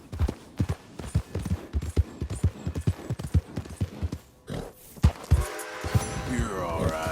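Horse hooves clip-clop in a steady rhythmic gait under a rider in the Red Dead Redemption 2 video game, close and clear, with a brief voice partway and a rising engine-like hum near the end.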